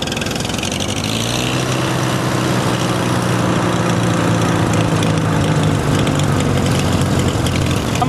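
An old engine, from either a CJ5 Jeep or a Farmall H tractor, idles roughly and loudly with a steady, uneven low chugging rumble throughout.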